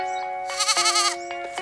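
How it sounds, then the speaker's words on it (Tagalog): A goat bleats loudly and nearby: a short wavering, quavering call in the middle of the clip, with a steady tonal hum behind it and no talk. "Nagsasalita pala yung kambing."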